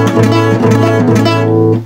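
A guitar chord strummed with unfretted, buzzing strings, ringing dull and muffled, several quick strokes close up before fading out.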